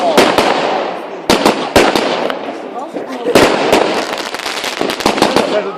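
New Year fireworks in Rott at the 2013-14 turn of the year, with repeated sharp bangs and crackling bursts close by over a continuous rumble of distant explosions, while people exclaim and talk throughout.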